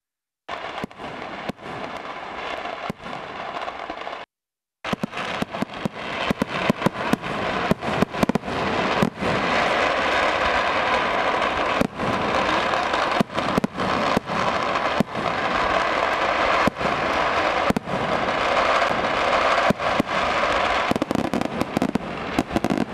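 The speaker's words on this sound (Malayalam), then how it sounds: "എല്ലാ നിയന്ത്രണങ്ങളും പാലിച്ച് വർണ്ണഭംഗിയുള്ള വെടിക്കെട്ടാണ് ഇക്കുറി സജ്ജമാക്കിയത്" Sample fireworks at Uthralikavu Pooram crackle and pop in a dense, continuous barrage of sharp bangs and rattling bursts, loud and sustained throughout apart from a brief silent gap near the start.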